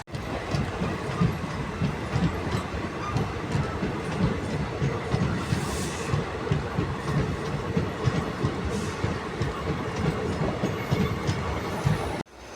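A train rolls steadily past at a railway station for about twelve seconds, with continuous clickety-clack and rumbling wagons close by and no voices.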